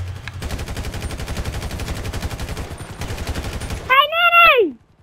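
Rapid automatic gunfire in GTA V, a dense stream of shots for about four seconds, followed by a short burst of rising and falling game sound effects before fading out.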